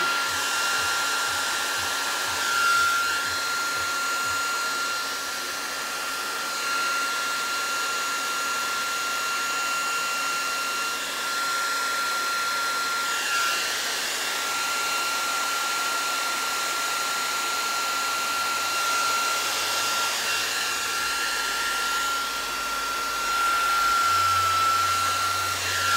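A hair dryer blows a steady, loud whine for a long stretch while drying paint on a barnwood plank table, with no talking over it.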